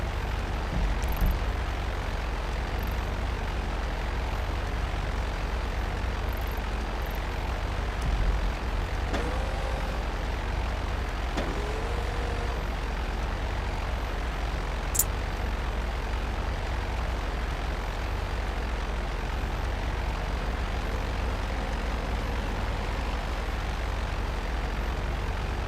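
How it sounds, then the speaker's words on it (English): Propeller plane engine droning steadily in GTA Online, a continuous loud hum throughout with faint tonal sweeps partway through. "I seem to be struggling with maneuvering planes."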